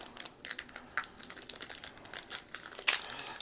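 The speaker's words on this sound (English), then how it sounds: "Let's see if I can just tear it." A plastic baggie of small red board-game cubes is crinkled and pulled at before it tears. The crackle is close and quiet and runs on without a break, with a brief louder rip near the end.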